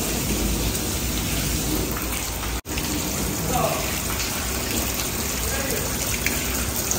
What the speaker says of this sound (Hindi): बहुत जोर मेघ वर्षा करथला